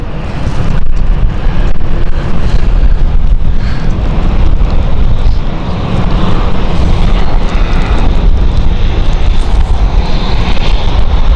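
Jet engines of a KLM airliner roar as it turns on the ground at London City Airport. The rumble is loud and continuous, with heavy wind buffeting on the microphone throughout.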